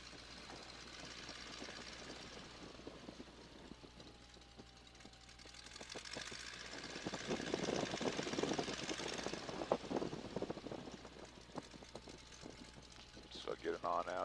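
Radial engine of a Boeing N2S-3 Stearman biplane running up as power is added for takeoff, a steady droning rumble that swells and grows louder midway, with talk heard over it.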